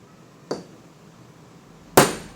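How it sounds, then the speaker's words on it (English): Two sharp metallic strikes of a hammer on a metal stamp denting a silver ring, spaced about a second and a half apart, close and crisp with quiet between them. "All I had to do was use this metal stamp and kind of bash in some dents in it to give it a bit of structure"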